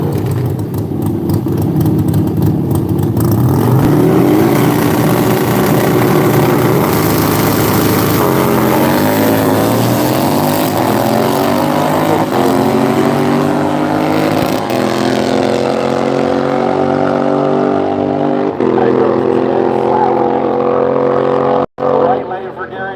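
Race engines at Seattle International Raceway drag strip during motorcycle runs, a loud sustained roar with rising, sweeping revs and gear changes, ending abruptly near the end; an announcer's voice is mixed in.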